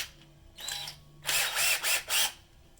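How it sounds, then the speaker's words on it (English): Power drill with a step bit whirring into a plastic Fermonster fermenter in short bursts, starting briefly then running in three or four close, loud pulses. "Bust out a drill, and you're going to need a step bit."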